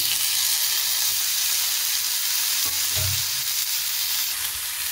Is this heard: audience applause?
no